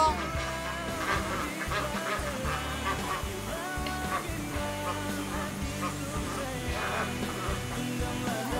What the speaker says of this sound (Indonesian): Suara bebek. Masa iya bebek?